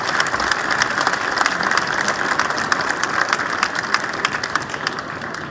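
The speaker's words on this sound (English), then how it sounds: "So big round of applause to everyone." A crowd applauds at a school year-end awards ceremony, with dense, steady clapping that carries on throughout at an even, fairly loud level.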